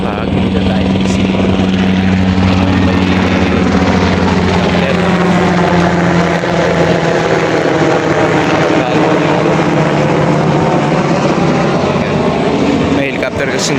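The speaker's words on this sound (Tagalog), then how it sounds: "May helicopter kasing dumaan na yun." A helicopter passes overhead above a farm field, its rotor and engine drone loud and steady, with the pitch slowly sliding as it moves across and away.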